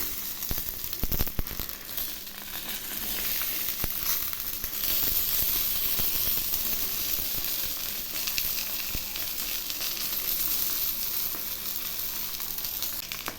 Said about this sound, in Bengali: এখন আমি এগুলি একটু ঘুরিয়ে ফিরিয়ে ভেজে নিচ্ছি